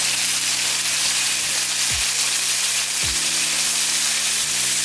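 Chili lime taco meat glazed with honey sizzles loudly and continuously in a hot pan as it is flipped with a fork, with a couple of soft clunks breaking through the steady hiss.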